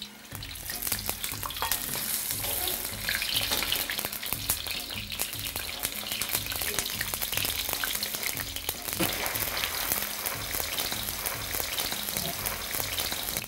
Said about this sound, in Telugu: బాగా వేడెక్కిన తర్వాత పన్నీర్ వేసి వెంటనే తీసేయాలి